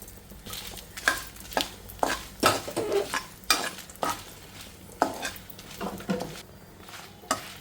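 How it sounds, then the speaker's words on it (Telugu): Dry red chillies fry in a pan, with short scraping stirs coming every half second or so against a soft sizzle. Occasional clinks of a spoon on metal, no talk. "మిరగాయలు చూడండి అమ్మా ఇలా వేపుకోవాలి"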